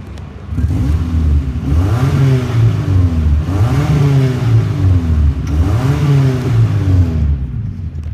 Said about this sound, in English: Let's go ahead and listen to the engine.